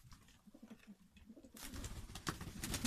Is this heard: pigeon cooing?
yes